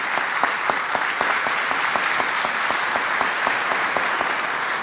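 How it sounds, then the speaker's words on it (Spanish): Steady applause fills a conference hall at a regional meeting, a dense even wash of clapping from the audience with individual sharper claps standing out, continuing without a break. "la congresista peruana Patricia Chirinos, para quien pido un aplauso también."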